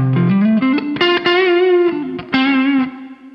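A distorted SAITO S-622CST electric guitar plays a short melodic phrase with sustained, gritty notes and slides, loud and close with no voices.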